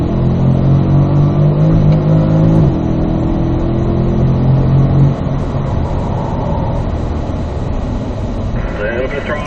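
A Corvette on a racetrack at the Ron Fellows Corvette Experience, its engine droning loud and steady under throttle, pitch climbing then settling, with wind and road roar filling the cabin and an instructor's voice heard over it.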